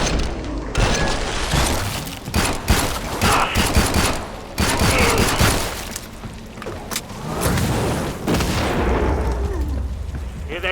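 Rapid bursts of gunfire echo through a Killing Floor 2 match, loud and close, with sharp repeated shots clustered in volleys and short gaps between them, and a player's voice talking over parts of the action.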